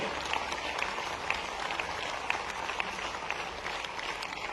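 An audience at a Mahavir Jayanti festival event in Bhopal applauds, a fairly faint, steady wash of clapping with a few sharper claps standing out, heard from some distance in a large space.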